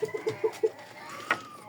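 A nine-month-old rooster clucks in a quick series of short, close calls followed by a brief higher squawk, with no talking.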